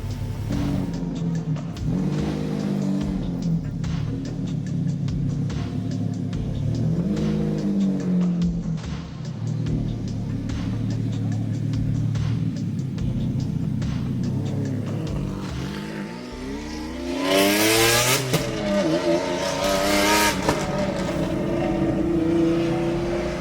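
The Eccentrica Diablo Resto Mod's engine revs loudly and close, holding a strong steady roar, then rising and falling through sharp swells with a burst of high rasp near the end.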